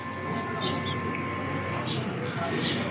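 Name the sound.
birds near pizza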